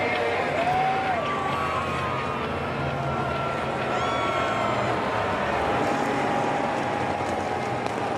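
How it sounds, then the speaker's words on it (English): A NASCAR Cup Series grandstand crowd at the HighPoint.com 400 cheers for Denny in a steady, dense roar, with scattered whistles rising above the wash of noise throughout. "we'll see just how loud the crowd gets now with Denny back on the front stretch"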